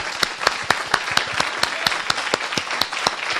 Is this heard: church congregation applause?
yes